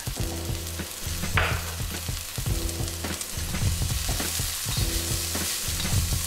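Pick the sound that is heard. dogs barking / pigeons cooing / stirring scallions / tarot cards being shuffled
stirring scallions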